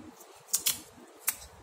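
Scissors cutting tape stuck on an A4 sheet, three quiet crisp snips close by over a soft background.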